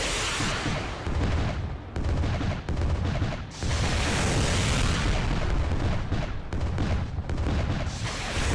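Missiles striking a target in the warship game Atlas Warship, heard as loud, continuous blasts and booms that roll into one another with brief dips, with no voices over them.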